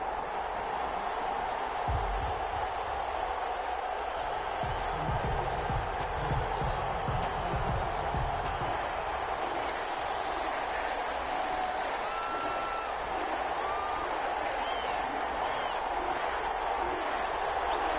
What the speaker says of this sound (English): This crowd is ready as their guys get set to match up between the Green Bay Packers and the New Orleans Saints.